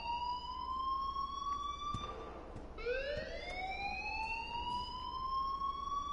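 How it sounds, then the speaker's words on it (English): An electronic alarm sounds in a school in the game Life is Strange, a loud wailing tone that rises, cuts out briefly, then sweeps upward again and holds steady, with no talking over it. "please turn off that alarm since that's your job"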